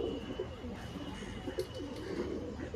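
A female pigeon coos softly in repeated low, burbling notes among a faint background of other birds, with a steady hum beneath.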